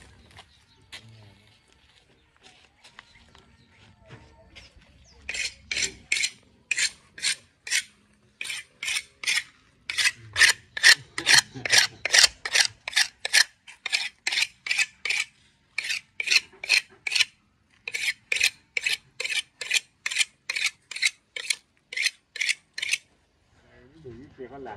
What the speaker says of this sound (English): So I need to first sharpen my knife.